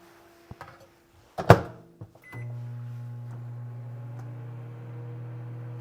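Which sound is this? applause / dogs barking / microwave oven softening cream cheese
microwave oven softening cream cheese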